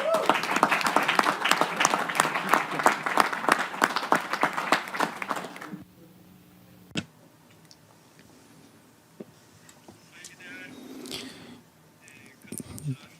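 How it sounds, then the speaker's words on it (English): Audience at a UN summit applauding, a lively burst of many hands clapping for about six seconds that stops suddenly, leaving quiet room noise with faint rustles and a brief voice. "Let's give him a tremendous round of applause"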